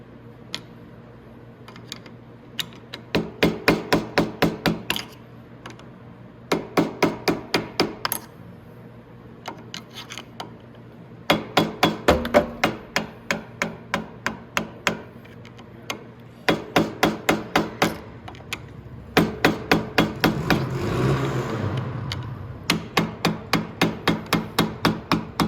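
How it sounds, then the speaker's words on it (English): A hammer taps a flat screwdriver to loosen the fork nut on a Venom X22R 250cc motorcycle, giving rapid bursts of sharp metallic strikes in repeated clusters with short pauses between them. "A flat screwdriver like this and a hammer,"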